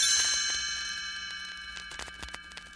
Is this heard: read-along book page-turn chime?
yes